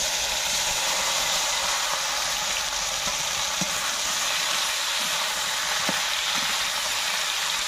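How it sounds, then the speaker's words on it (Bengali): Dry red chillies and panch phoron spices crackling in hot oil for a Bengali chalta pickle, a steady close broadband sizzle and hiss with a few faint pops, no voices. "আমার তেল গরম হয়ে গেছে, আমি দিয়ে দেবো ফোড়নের জন্য শুকনো লঙ্কা আর পাঁচফোড়ন।"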